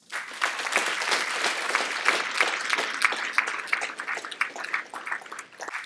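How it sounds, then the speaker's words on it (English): An audience at a Newcastle University Medicine Malaysia graduation congregation applauds the graduates' parents, dense steady clapping from a large crowd that holds for several seconds before thinning out. "Please join me in giving them a round of applause."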